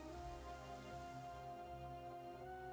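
Steady rain patters down in the video game Nikke, a dense, continuous hiss of falling drops with no voices, even and unbroken throughout.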